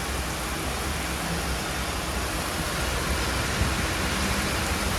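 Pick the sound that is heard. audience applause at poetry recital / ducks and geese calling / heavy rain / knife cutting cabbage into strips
heavy rain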